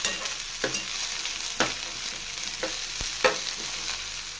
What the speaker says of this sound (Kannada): ಚೆನ್ನಾಗಿ ಫ್ರೈ ಮಾಡ್ಕೋಬೇಕು ಎಲ್ಲನೂ.